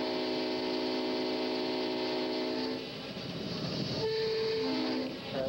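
A train locomotive rumbles steadily with sustained tonal horn-like harmonics, then the sound shifts into rolling rail noise with brief higher tones.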